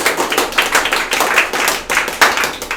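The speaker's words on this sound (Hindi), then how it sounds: "तो इनके लिए एक जोरदार ताली होना चाहिए।" A classroom of students gives a burst of loud, steady applause in a Hindi-medium tenth-grade maths class, brisk hand claps filling the room with no speech.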